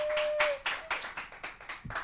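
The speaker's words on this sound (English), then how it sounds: "Give her a round of applause, ladies and gentlemen." A small studio audience claps for guest Beverly Smith Brown on an evening talk show, a handful of separate, fairly close claps in an uneven rhythm that quickly thins out.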